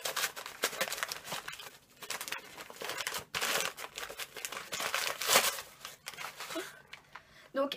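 Crinkly plastic packaging around a Lush Frozen product is opened by hand, a busy stream of close crackles and rustles with brief pauses between handfuls and a few tearing bursts.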